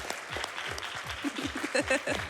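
An audience claps at a speedrun marathon event during a Splatoon 2: Octo Expansion run, a brief patter of applause mixed under people talking.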